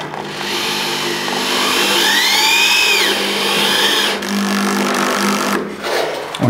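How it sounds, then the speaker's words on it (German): A cordless angle screwdriver drives screws into plasterboard on a drywall ceiling, its motor whining with a rising and falling pitch for several seconds before it stops, loud and close. "Ich mache es jetzt hier mit dem Winkelschrauber."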